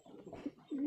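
A pigeon gives a short, soft cooing call, a low throaty coo that swells at the end. It is heard close up and quiet, with no talking.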